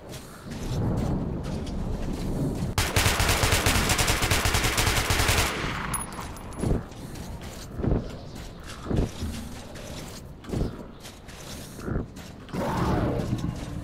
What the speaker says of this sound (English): I need to know who's shooting and where.